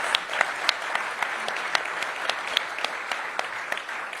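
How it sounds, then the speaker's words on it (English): Audience applause at a press conference with the mayor and football officials, a steady wash of clapping from a crowd with individual sharp claps standing out, moderately distant, under faint voices. "Please give them a big round of applause."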